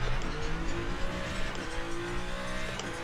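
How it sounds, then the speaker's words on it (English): Race car brakes lock up on cold tyres in the Le Mans Ultimate racing game, a loud sustained engine drone with a squealing tyre skid running throughout, steady and close. "we've locked up horribly there on our cold tyres"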